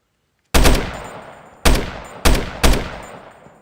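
A gun in a Minecraft Bedrock mod, chambered in .308, fires four loud, sharp shots with ringing decays, the first alone and the last three in quicker succession, with no talk over them.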